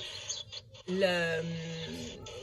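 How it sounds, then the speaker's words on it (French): Birds chirping and calling in short bright phrases, with a louder sustained call in the middle, under a nearby voice. "je vais baisser un peu le son des oiseaux"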